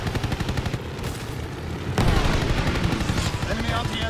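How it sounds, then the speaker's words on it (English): Enemy anti-aircraft guns fire during a WWII aerial dogfight in a video game, rapid repeated bursts of gunfire and flak over engine drone, growing louder and denser halfway through. "Enemy anti-aircraft fire."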